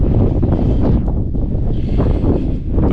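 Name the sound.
strong wind gusting on a mountain ridge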